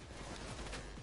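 Rapid gunfire in the heist shooter game Payday 2, a dense, loud continuous burst of shots lasting about a second with no talk over it.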